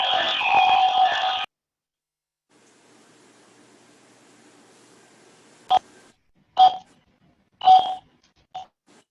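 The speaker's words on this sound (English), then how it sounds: "He's calling in with his phone." Telephone dialing tones as a caller joins a public meeting by phone: four short, clear beeps at uneven intervals after a burst of noise and a quiet stretch.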